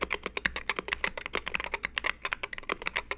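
Fast, steady typing on a Wooting 60HE keyboard with a steel plate: dense, close-up keystrokes clatter continuously with no pauses, and no one speaks.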